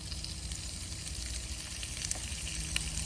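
Stir-fry ingredients fry in olive oil on a camping grill, giving a steady, close, fairly loud sizzle with a dense broadband hiss and a few small pops.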